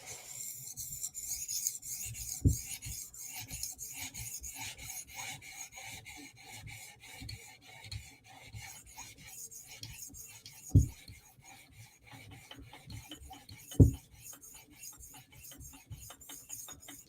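A knife blade being sharpened on an 800 grit stone in a TSProf Kadet guided sharpener: quiet, rhythmic back-and-forth rasping strokes, close up, with a few sharper clicks between passes.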